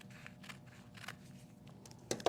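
Scissors snip through fabric while someone makes a no-sew fabric-covered box. Several short, crisp cuts come close to the mic and stay fairly quiet against a soft room background.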